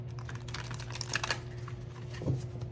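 Tarot cards shuffled by hand, a quick run of crisp, close riffling clicks and flutters, soft and brief with a pause before a final flick.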